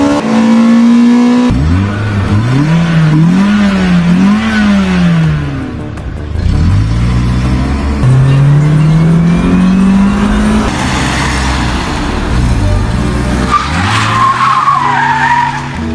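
A Toyota Celica GTS in a Need for Speed Underground racing game, its engine loud and close, climbing and falling through rev sweeps while the tires squeal and skid almost continuously.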